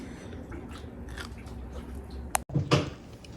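Crunchy air-fried potatoes with Italian seasoning being chewed close up, soft mouth sounds building to a couple of sharp bites and crunches near the end.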